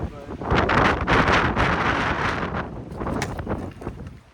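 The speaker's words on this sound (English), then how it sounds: "Not even sure if you'll entirely be able to hear me because of all the wind" Strong mountain wind buffets the microphone in loud, gusting roars that rise and fall, with a voice partly audible beneath the rumble.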